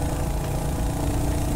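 A Royal Enfield Hunter 350 motorcycle engine hums steadily while being ridden at speed, its continuous thumping drone mixed with heavy wind blast and no talking.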